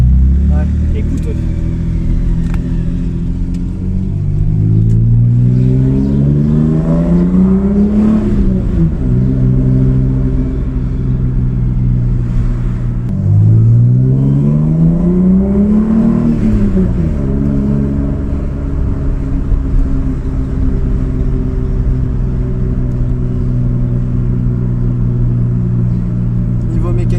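A Toyota Supra with a special tune idles with a deep rumble, then revs twice in long rising sweeps that fall back, loud and close, with the engine droning steadily throughout.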